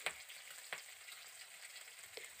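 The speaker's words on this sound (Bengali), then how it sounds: "মাছগুলো দিয়ে দিয়েছি, এবার ভালো করে ভেজে নিয়েছি।" Fish frying in a pan, a soft, even sizzle with a few sharp spits and pops near the start, middle and end, fairly quiet and with no voices.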